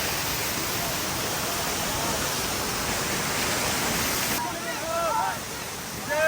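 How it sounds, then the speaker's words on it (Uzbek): Aksaroy waterfall, also spelled Axsarsoy, gives a loud, unbroken wash of falling water heard close by, with faint voices surfacing near the end. "Aqsaroy sharsharasiga yetib keldik"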